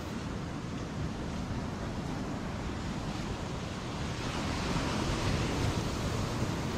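Small waves break on Nampu beach, a white-sand shore with some coral rocks and moored fishing boats, giving a continuous, even wash of surf with wind noise and no voices.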